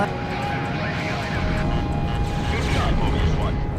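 A propeller airplane engine drones loud and steady in a Namco airplane combat video game, with a continuous roar and faint mechanical whine, voiced narration running over it.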